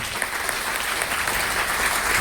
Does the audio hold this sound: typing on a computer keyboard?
no